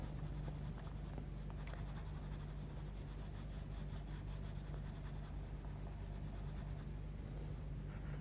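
Coloured pencil shading on black sketch paper makes a steady, close scratchy rubbing that carries on without a break, quiet and alone.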